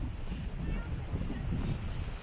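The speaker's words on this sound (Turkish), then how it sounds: "burası çok rüzgarlı, aşırı rüzgarlı." Strong wind buffets the microphone in a continuous low roar, rumbling and gusting steadily throughout with no other sounds standing out.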